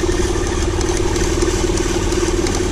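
A Saturn L300 with a 3.0 liter engine idles with its power steering pump under full load and a wobbling pump pulley, producing a steady, loud mechanical drone with a constant whine and light clatter throughout.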